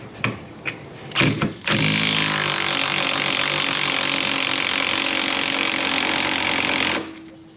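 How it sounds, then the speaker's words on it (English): Pneumatic impact wrench backing out a 17 mm bolt on a rear strut: a few short bursts, then about five seconds of loud, steady hammering rattle close by, stopping abruptly. "I'm going to go ahead and back it out with my impact."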